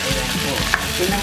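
Onions frying and browning in a pan for chopsuey, giving a short burst of dense, close sizzling with a faint clink partway through.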